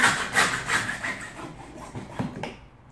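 Hand saw cutting through a workpiece, with rapid rasping back-and-forth strokes, close and fairly loud, tapering off near the end.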